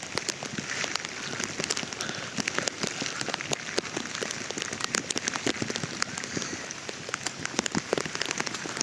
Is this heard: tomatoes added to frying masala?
no